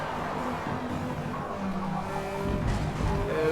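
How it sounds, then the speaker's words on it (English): IndyCar racing cars in a sim racing game at Laguna Seca, engines rev-banging as several cars slide sideways out of a corner, with loud engine roar and tyre squeal building toward the end. "As they get out of the corner, a little more rev bang. Multiple cars sideways coming out of that."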